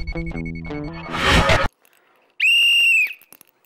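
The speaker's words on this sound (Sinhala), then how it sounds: "මේක මේ විසිල් එක මං හිතන්නේ ඔයගොල්ලන්ට නිතරම ඇහෙන දෙයක්" A single loud, shrill whistle blast sounds for under a second after a brief pause, following a jumble of tonal and noisy sounds, as an example of noise pollution.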